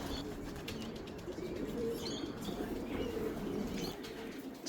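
A racing pigeon home from a 350 km race coos in a low, steady murmur at the loft, with a few soft chirps and brief wing flaps around it. The sound is continuous and fairly close, with no talking.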